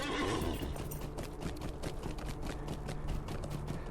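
A horse whinnies in Lord of the Rings Online over a continuous rumbling background with faint hoofbeats, sounding like a game soundtrack rather than a live recording.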